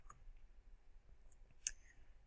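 A single crisp mouse click lands near the end of a quiet stretch, faint and close, with a couple of softer taps earlier against a low room hum.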